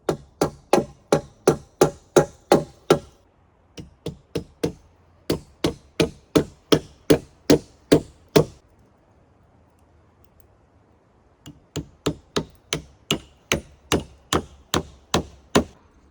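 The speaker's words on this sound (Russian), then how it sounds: "Каждые несколько бревен я скрепляю крышу гвоздями, прибивая их к перекладинам." Nails are hammered into roof logs and crossbeams while building a dugout shelter, heard as loud, close, evenly paced blows in three long runs of about a dozen strikes each, separated by brief pauses, with no talking.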